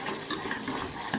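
Steady scraping and stirring of split chickpea dal in a frying pan with a soft sizzle underneath, close and continuous for a moment.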